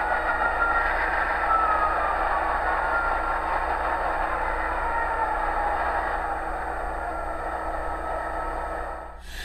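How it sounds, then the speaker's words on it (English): A Tsunami2 sound decoder in a model diesel locomotive hums with a steady engine drone that gradually eases and settles toward a lower idle, alone with no talk, ending in a brief clunk. "you'll hear the locomotive drop back down to a normal idle"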